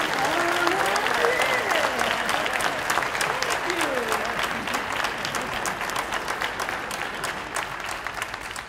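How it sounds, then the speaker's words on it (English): Audience applause at a school district career and technical education awards program honoring an outstanding teacher, a steady, dense clapping from a large crowd lasting several seconds, with voices and cheers mixed in over the top. "If you all could, give Ms. Leslie McGee a round of applause."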